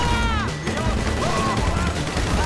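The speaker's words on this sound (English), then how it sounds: "Little gunfire," Gunfire during a GTA Online mission: a burst of rapid shots crackles amid busy game sounds, with someone talking over the action.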